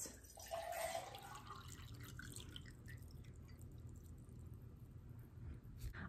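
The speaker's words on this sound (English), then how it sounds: "We're gonna pour it into the glass." Water poured into a drinking glass, about 1¾ cups, to tune a homemade water xylophone; a soft splashing pour is strongest in the first second or so, then settles into quieter trickling and dripping.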